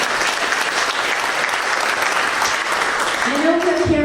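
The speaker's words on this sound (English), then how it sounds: "It's okay to applaud." Audience applause at a community relations committee event, steady and loud throughout, with a voice rising over the clapping near the end.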